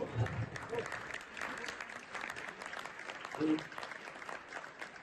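An audience at an awards ceremony applauds France's over-60 national team, producing a soft, continuous spread of clapping heard from a distance, with faint voices and brief tones mixed in.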